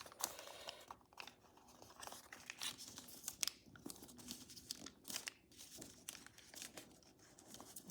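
Paper creaks and crinkles as it is folded into origami dragon scales, close and quiet, with irregular soft crackles, rustles and small creases over several seconds and no voices.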